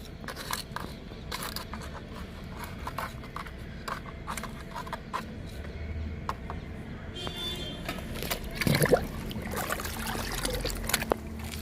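Liquid fertilizer poured onto a light pink chrysanthemum in a pot, a brief trickling splash standing out near the end amid soft handling noises and background hum.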